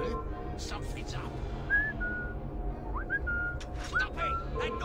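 Short rising whistles repeat three times over the crowded street ambience of Victorian London in Assassin's Creed Syndicate, each clear and mid-distance.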